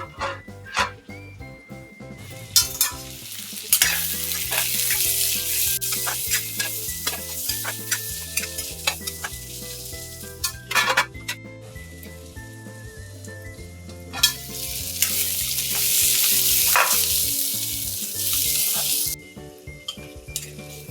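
Ingredients with cashews sauté in a pan for paneer butter masala, a steady sizzle with repeated spoon scrapes and clinks against the pan, the frying swelling louder toward the end.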